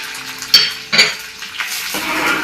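Dried red chillies and curry leaves frying in oil in a pan, with sharp clanks of a utensil against the pan over a crackling sizzle, close and fairly loud.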